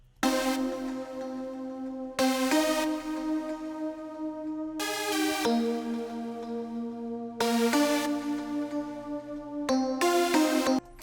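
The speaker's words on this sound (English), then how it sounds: "I added a synth lead, which kind of complements and accents the first lead" Two layered synth leads play together, one carrying the main line and the other a counter melody, in bright sustained phrases that restart about every two and a half seconds, loud and alone, for a beat.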